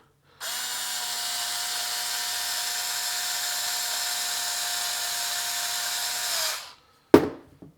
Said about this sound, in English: I'm just going to take my screwdriver and just kind of push on it while I screw it in